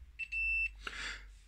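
A multimeter's continuity beeper gives a high, steady electronic beep in two short bursts, the second held longer, followed by a brief rustle of handling noise.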